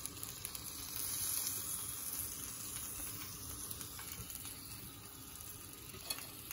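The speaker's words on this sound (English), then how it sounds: "now this is ready and we'll keep it on the grilling pan." Paneer seekh kababs cooking on a grilling pan give a soft, steady sizzle, quiet and close, with faint crackles and occasional light clicks but no voices.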